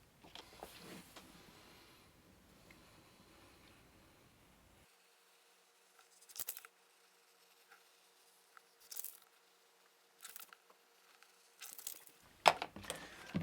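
Scissors snipping through a paper template, faint sparse cuts and paper rustles coming in short separate bursts against a quiet background.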